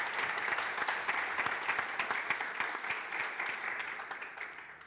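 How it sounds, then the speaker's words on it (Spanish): Applause from a seated audience greets four women panelists at a Madrid gathering for International Women's Day, a steady wash of many hands clapping at moderate loudness that slowly thins toward the end. "Un aplauso para las 4 panelistas."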